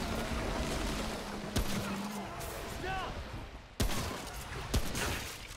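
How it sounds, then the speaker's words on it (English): Player gunshots in Remnant: From the Ashes: two sharp, loud cracks stand out over a dense game soundscape, with a speaking voice mixed in. "Ooh, I missed all my shots."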